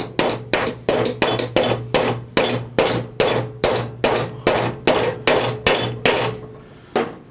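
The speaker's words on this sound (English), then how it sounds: "Just gonna use a mallet, tap it in." Mallet tapping a bearing into the pulley of a Cub Cadet C-160G riding mower: about twenty sharp, evenly spaced knocks in a steady rhythm, close and loud, with a final separate tap after a short pause.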